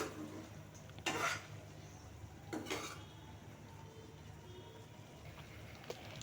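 A spoon scrapes and clinks against a pot of chicken curry being stirred with garam masala and meat spices, two distinct metallic scrapes over a quiet background hum.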